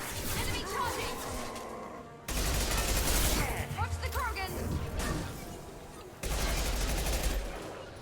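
Gunfire in the video game Mass Effect 2, loud bursts of rapid shots in three blocks with brief pauses between them, mixed with impacts and other game noise.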